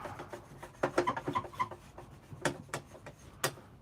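Damp wood ash being rubbed onto a surface to clean it on a rainy night, a close, soft scrubbing and rasping in short uneven strokes, with no talk.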